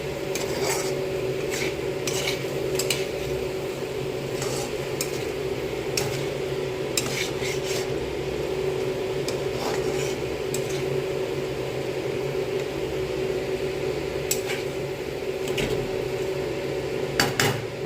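Chicken pieces are stirred with spices in a metal pan for a curry, with repeated scraping and clinking of a spatula against the pan over a steady background hum, no talking.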